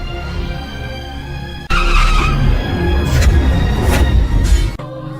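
A car skids toward people in a TV drama scene, a loud sustained tire screech and engine roar that bursts in abruptly and holds for about three seconds before cutting off.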